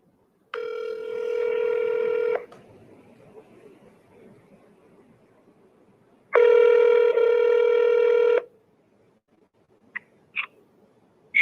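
Two long electronic telephone tones, each about two seconds, sound clearly as an outgoing cold call to a property owner is dialed, with a faint hiss between them and a few short chirps near the end.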